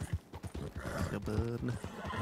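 A horse in the Western video game Red Dead Redemption 2 lets out a loud, shaky neigh over clip-clopping hooves while players chatter over it.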